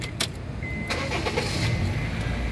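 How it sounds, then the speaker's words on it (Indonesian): A 2010 Honda Freed 1.5 E automatic starts up, with a brief starter crank followed by a steady mid-pitched engine hum at close range, with no talking over it. "Oke, sekarang kita coba nyalakan mobil."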